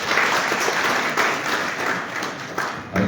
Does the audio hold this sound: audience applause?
yes